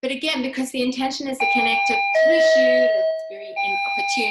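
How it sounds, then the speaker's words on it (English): A doorbell rings with steady sustained chime tones in the background of a yoga class, sounding over and between an instructor's continuous talking. "Sorry, that's my doorbell."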